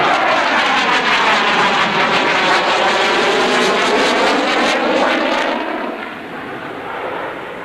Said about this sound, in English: gear down now on the Tornado for a much slower pass right to left